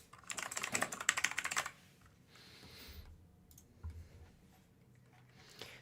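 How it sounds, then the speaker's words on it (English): A loud computer keyboard clatters in a rapid close burst of typing, then falls to a few scattered key clicks and soft handling noises. "don't you just love how loud my keyboard is?"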